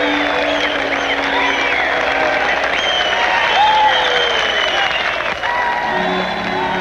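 A crowd gathered near Rizal Avenue in Manila during World War II to welcome liberating troops, heard as steady, continuous applause and crowd noise filling the whole stretch, with tonal sounds and some voices over it.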